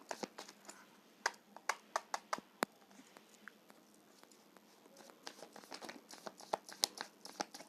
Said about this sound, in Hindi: बट मैं भी अच्छे से शफल करती हूँ।